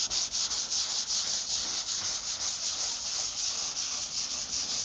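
Body putty on a Nissan Q50 car panel being sanded by hand with short, steady back-and-forth rubbing strokes, close and continuous with no talking.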